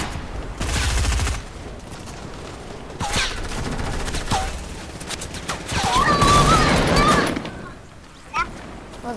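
Fortnite gunfire, rapid bursts of shots in a fusillade with a loud opening volley, a dense stretch of firing around the middle and scattered single shots, with a player talking in between.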